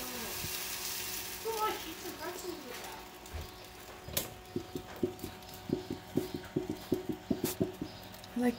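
Vegan JUST Egg frying in a pan gives a soft, steady sizzle, joined later by a run of quick clicking taps like a utensil against the pan, while people chat quietly in the background.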